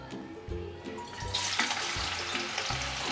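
Onion dropped into hot oil in a kadhai (wok) bursts into a loud, hissing sizzle partway through, and the frying stays bright and steady to the end over a low background hum.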